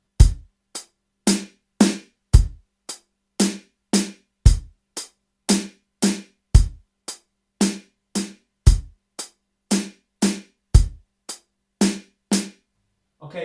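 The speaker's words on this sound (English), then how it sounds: "So we've added a snare drum on the 4th hi-hat and it will sound like this." A steady drum kit groove of hi-hat, bass drum and an added snare drum on the fourth hi-hat repeats evenly for several bars, close and clear with no voices over it.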